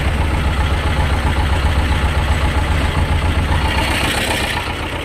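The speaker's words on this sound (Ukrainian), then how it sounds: "мотор працює нормально" A T-25 tractor engine idles steadily with a low, continuous rumble, loud and close, easing off slightly near the end, with no talking.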